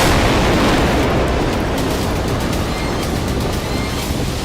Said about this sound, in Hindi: धमाका ऐसा होता है कि बख्तरबंद गाड़ी में बैठा एक भी फौजी बचकर